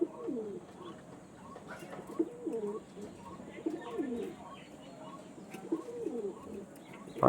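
Pigeons at a bird sale coo repeatedly in soft throaty rolls, several birds nearby, with faint chirps and low background noise and no clear talking.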